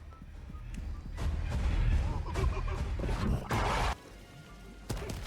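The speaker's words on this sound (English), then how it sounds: "We both just threw grenades in there." Grenade explosions in a video game land as loud, heavy booms and crashes over a rumbling low end, with a sharp burst near the end of a few seconds of chaotic combat noise.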